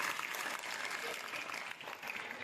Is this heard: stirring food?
no